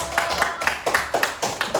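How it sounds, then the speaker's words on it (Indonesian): Classroom clapping applause in a rhythmic chant pattern, groups of sharp claps repeating steadily about every quarter second, fairly close and moderately loud. "Coba kita kasih tepuk keren lah ya. Oke, 1, 2, 3, keren, keren, keren."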